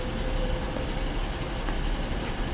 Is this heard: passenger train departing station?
yes